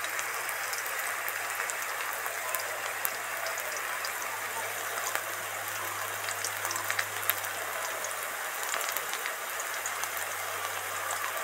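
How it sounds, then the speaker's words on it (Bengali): Hilsa fish pieces frying in hot oil tempered with dried red chilli and black cumin, a steady crackling sizzle with fine spits and pops running throughout, close and unbroken with no voices. "ইলিশ মাছ খুব বেশি ভাজার দরকার হয় না, দু পিঠ হালকা করে ভেজে নেব।"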